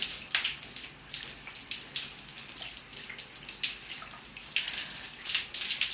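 Shower water running steadily in a bathroom, a continuous hissing spray with small splashy fluctuations, close and moderately loud, with no voices.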